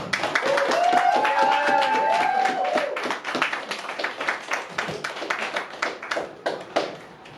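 Applause and clapping break out for a comedian coming on stage at a stand-up comedy show. A voice talks over the opening seconds, then the clapping thins into scattered sharp claps.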